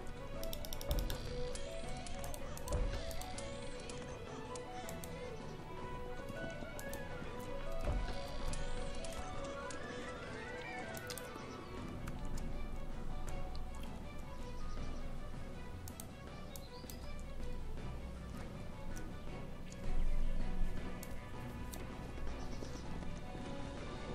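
Pack horses move in the Cossacks 3 strategy game with a steady clip-clop of hooves under a dense, busy battle soundscape and game music.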